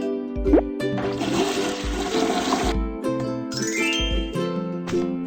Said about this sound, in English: Flush the toilet after using the bathroom.